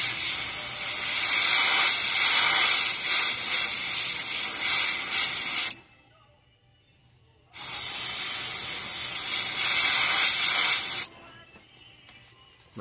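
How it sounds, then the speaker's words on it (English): Loud bursts of spray paint hiss from an aerosol can onto a bluegill fishing lure, a long sustained blast, a short pause, then another blast that cuts off near the end. "And then we're going to spray this gill plate."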